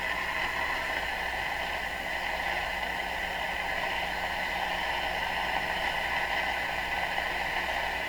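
A Minerva W119 six-tube radio turned way up during IF alignment, giving a loud, steady wash of hiss and static with a faint hum underneath, continuous and unchanging for the whole stretch with no voices.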